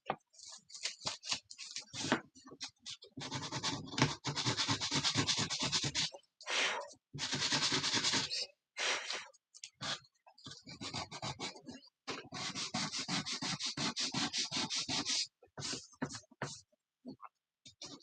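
Rhythmic scratchy rasping of sandpaper rubbed back and forth over wood, in steady strokes with brief pauses, close by.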